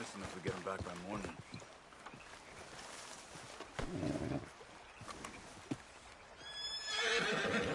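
In Red Dead Redemption 2, a horse whinnies loudly near the end, after hooves clip-clop and muffled voices talk in the background.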